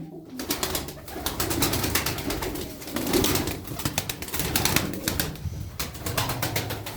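Tumbler pigeons in a Darıca loft coo and flutter steadily throughout, a dense, close chorus of soft throaty calls with occasional wing flaps and no voices.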